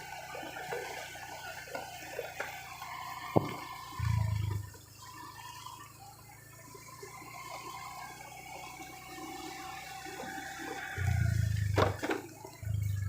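Floodwater flows near a village entrance in Nong Bua Lam Phu, Thailand, with roads on both sides turned into open water. A steady low wash of water is broken by a few louder gushing bursts, and no one speaks.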